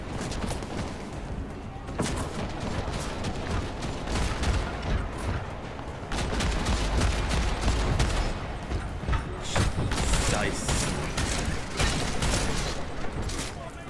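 Distant gunfire in Deus Ex: Mankind Divided, a dense stretch of rapid, crackling shots rolling on without pause amid loud game noise, growing heavier partway through.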